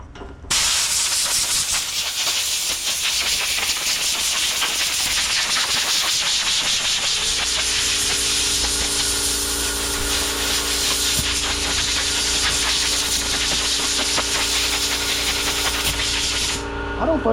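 Air blower cleaning a 20-year-old John Deere L110 riding mower with a Kohler Command 17.5 hp engine, a loud, continuous hissing rush of air that runs nearly the whole time, with a steady hum joining partway through.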